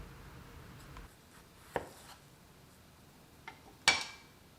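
A knife slicing a large, still-firm potato in half, heard as two sharp, close cuts against a board with a quiet pause between them and no talking.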